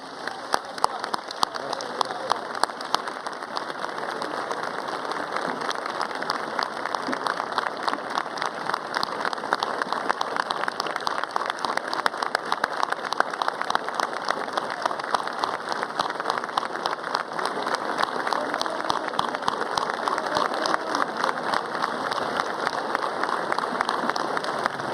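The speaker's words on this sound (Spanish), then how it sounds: "yo solicito, señor presidente, un minuto de aplausos por la mayora Carmelina" A large crowd at a Colombian government peace event claps continuously for about a minute, a steady rain-like wash of applause that holds level throughout.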